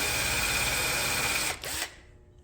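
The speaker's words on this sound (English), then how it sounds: "Let me go get a sharper drill bit." A power drill with a bit bores into metal while working on the e-brake of an '84 Toyota pickup, a close, steady whine that drops briefly, stutters and stops.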